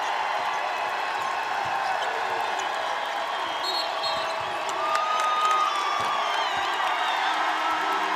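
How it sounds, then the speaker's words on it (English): A women's college basketball arena crowd cheers wildly after a record-setting basket, sustained loud roaring and whooping from a large crowd that swells midway. "The crowd going nuts as Lee is mobbed."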